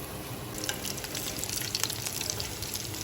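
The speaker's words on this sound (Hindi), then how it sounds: "चिकन ऑलमोस्ट जो है वो अब थोड़ा सा फ्राई हो गई है" Chicken frying in a pan, a steady close sizzle and crackle with scattered pops throughout, no voices.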